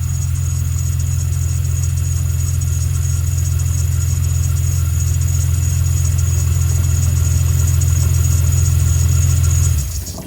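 A 2000 Jeep Cherokee XJ with its fan clutch removed idles steadily up close, a constant low engine drone with the fan whirring along, cutting off near the end.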